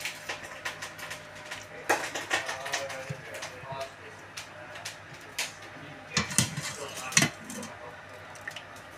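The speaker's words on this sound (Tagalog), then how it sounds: "Salain na po natin ang karne ng kangaroo" Kangaroo meat being strained in a pot while cooking kaldereta, with clinking metal, light knocks and wet dripping and splashing in quick irregular bursts, fairly quiet and close.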